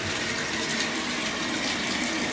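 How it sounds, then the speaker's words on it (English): Running water pours steadily into a bathtub, a loud, constant close-up gush and splash with no pauses and no voices. "I got my bath running."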